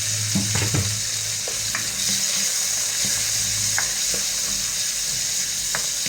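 Garlic and onion sauté in hot oil in a pan, a constant loud sizzle with occasional clinks and scrapes of a utensil stirring, close up and without speech.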